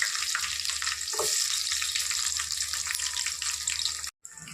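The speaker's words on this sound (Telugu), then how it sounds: "ఉల్లిపాయ మొక్కలు పచ్చిమిరపకాయలు నూనె బాగా కాగి చక్కగా వేగిపోయింది" Onions and green chillies fry in hot oil for chicken biryani, a loud continuous hiss and crackle that runs steadily before cutting off abruptly near the end.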